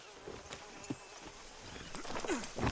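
Horse hooves clip-clopping in the Red Dead Redemption video game as a rider sets off, a steady moderate stepping rhythm over a low ambient bed, with what may be a brief whinny near the end.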